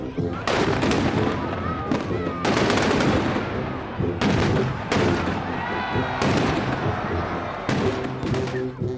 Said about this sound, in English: the sounds of the explosives are going to be very loud